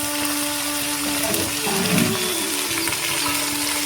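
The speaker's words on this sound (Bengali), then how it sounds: "সব একসাথে দিয়ে ভেজে দিচ্ছি।" Cauliflower, beans, capsicum and spring onion frying together in a pan, giving a steady broadband hiss with a brief louder bubbling swell near the middle.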